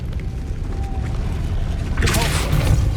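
A spell cast in Hogwarts Legacy lands as a loud, bright magical burst with a deep boom, over a steady low rumble of game ambience, and a voice calls out at the moment of casting.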